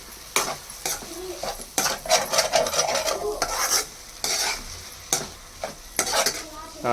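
A tomato and egg paste is stirred briskly in a sizzling pan. Repeated spatula scrapes and clinks ride over a steady frying hiss, close and fairly loud, with no voices.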